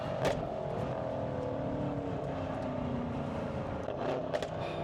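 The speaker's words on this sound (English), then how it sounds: "I'll do a fourth gear pull, a little one here." A Stage 2 tuned Mercedes-AMG E63 S rated at 779 hp makes a fourth-gear pull, its engine a sustained, steady drone heard from inside the car with no talking.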